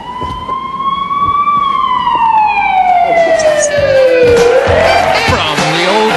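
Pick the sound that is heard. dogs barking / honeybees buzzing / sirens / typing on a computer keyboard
sirens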